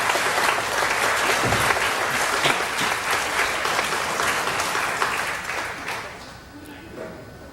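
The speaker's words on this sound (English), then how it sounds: "let's give our parents a big round of applause" Sustained, dense applause from a graduation ceremony audience, clapping for the parents at a fifth-grade graduation, steady for about six seconds before thinning out, with some voices mixed in.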